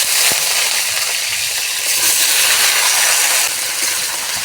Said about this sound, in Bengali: তেল গরম হয়ে গেছে, এবার সিম আর আলু দিয়ে দেব।